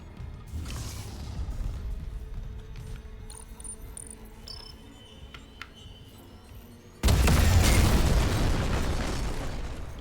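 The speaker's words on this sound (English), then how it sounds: "Take cover to detonate." A detonated charge in a video game goes off as a sudden, loud, close blast after a stretch of quieter mechanical ambience and small clicks, its rumbling roar sustained to the end.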